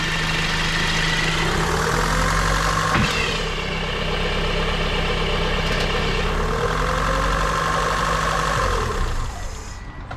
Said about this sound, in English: the whine is actually coming from the belts over here